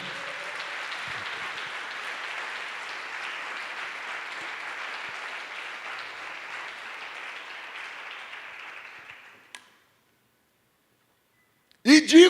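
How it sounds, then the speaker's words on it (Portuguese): A church congregation applauding God, a dense steady wash of clapping for about nine seconds that fades out into silence, followed by a brief burst of sound at the end. "Você pode aplaudir o nosso Deus eterno?"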